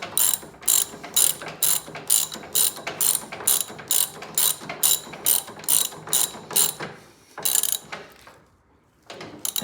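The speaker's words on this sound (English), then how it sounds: "now let's tighten this back up with your 1/2 inch socket and your 1/2 inch wrench" A ratchet with a 1/2 inch socket tightens a lawn mower steering bolt, giving a close, loud, rhythmic run of quick clicking bursts that pause briefly before a final click.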